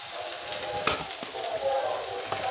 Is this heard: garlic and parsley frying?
yes